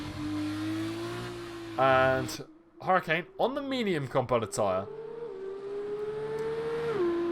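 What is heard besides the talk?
Formula 2 race car engines in video game F1 2020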